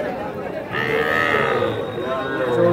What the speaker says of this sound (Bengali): এটা একটা শাহিওয়াল ষাঁড় বাচ্চা, 4-5 মাস বয়স হতে পারে।